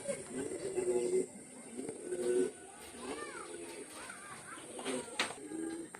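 A pair of Aktarbar pigeons coo in low, repeated throaty phrases at close range, with a voice briefly audible among the calls.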